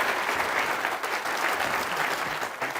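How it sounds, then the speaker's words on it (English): A live audience at a motivational event gives a sustained round of applause for hardworking people, dense steady clapping filling the room at an even level throughout. "Let's give them a great round of applause"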